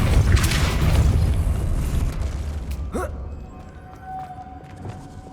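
A Depulso spell is cast in the video game Hogwarts Legacy, a deep booming magical blast with a rising whoosh over a dense rumbling game soundscape, followed by a sustained faint tone.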